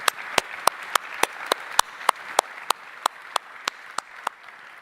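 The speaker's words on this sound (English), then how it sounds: "I would ask another round of applause for all the panelists, the participants, the staff, and the organizers of this thing." Rhythmic, evenly spaced claps at a conference closing on the blue and space economy, sharp individual hits in a steady beat over a soft wash of wider applause from the audience.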